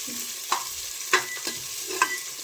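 Onions being lightly fried in a pressure cooker, soft sizzling under four distinct sharp scrapes and clanks of a spoon against the metal pot at roughly half-second intervals, close by with no talking.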